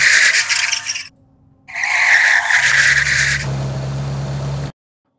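Looped car engine revving from the Igniter engine-sound plugin, with loud sustained high-pitched revs, a short near-silent gap, then a longer rev that drops into a lower steady drone before cutting off abruptly.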